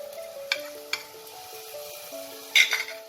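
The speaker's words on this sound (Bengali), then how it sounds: "এবার এই রসুনটাকে হালকা একটু 1 মিনিটের মতো একটু ফ্রাই করে নেব" Garlic paste fries in oil with browned onions for a mutton keema ghugni, giving a gentle sizzle with a few quick spoon clinks and stirs. Soft sustained musical tones play underneath.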